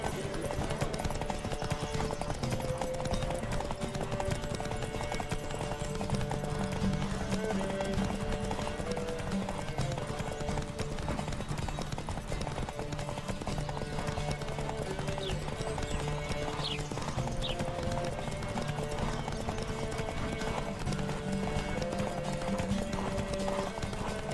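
Horses gallop in The Witcher 3 Wild Hunt during a race, a steady rapid clip-clop of hooves with occasional whinnies over a continuous bed of game music and ambience.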